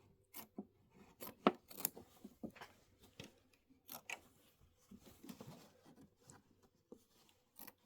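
Scissors trimming fabric for a quilted winter block, with short dry snips and rubbing handling sounds scattered irregularly, close and fairly quiet, no talking.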